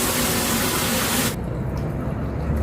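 Water pours steadily into a cooking pot while an Acehnese tuna dish is being prepared, a close, splashing gush that stops abruptly about halfway through and leaves only low kitchen background.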